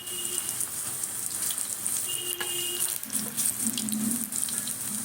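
Fritters of ol, elephant foot yam, fry in hot oil, a close and steady hiss of bubbling with fine crackles throughout, quiet, with no talking.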